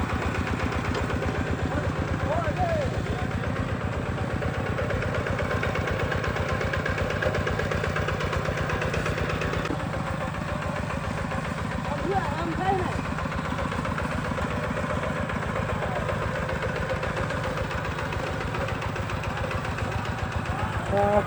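A small walk-behind farm tractor used for ploughing a field runs steadily at close range, its engine chugging with a continuous rhythmic drone throughout, while people talk faintly over it.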